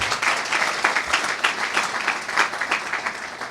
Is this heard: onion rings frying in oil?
no